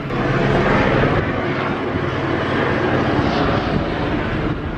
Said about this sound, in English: Police helicopter, no less, which means he may be here a while.